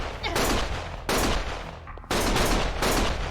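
Heavy bursts of automatic gunfire ring out in the video game Lost Judgment, three or four loud, dense volleys in quick succession, each decaying before the next begins.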